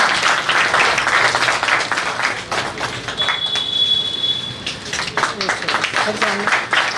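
A gathering of school teachers applauds at a farewell for a retiring Hindi lecturer, with dense, sustained clapping and voices talking over it.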